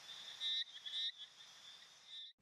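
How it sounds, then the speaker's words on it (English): A chorus of male poison frogs calls steadily, heard from a slowly driven car on a quiet roadside: high, trilling buzzes that swell in bursts and overlap for about two seconds, then stop abruptly. "What you hear is choruses of these frogs calling."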